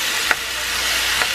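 Chicken breast cubes frying in a pan with olive oil, garlic and onions give a steady, close sizzle, with two light clicks of stirring.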